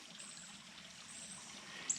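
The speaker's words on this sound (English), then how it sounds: "come to another bridge, and going over another creek" A creek flows beneath a trail bridge in an old-growth forest valley, a steady, soft trickling and babbling of water running continuously on its own, moderately close and fairly quiet.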